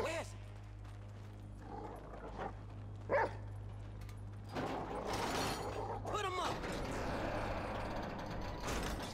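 Chop the dog barking in the GTA V video game, a few short sharp barks over engine-like game noise and a steady hum, with someone shouting and talking excitedly throughout.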